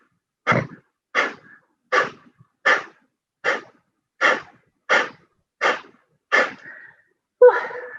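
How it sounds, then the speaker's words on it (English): Ten sharp, forceful breaths of a fast rhythmic breathing exercise, evenly spaced bursts of air about every two-thirds of a second, close and clear against silence, ending with a longer inhale. "We're going to do it again for a little bit faster for 10 breaths"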